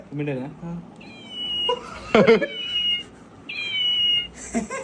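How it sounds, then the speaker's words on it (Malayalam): A kitten's thin, high mews come several times in short bursts, close by, with some voices and other noises between them. "പൂച്ചക്കുഞ്ഞാണ്."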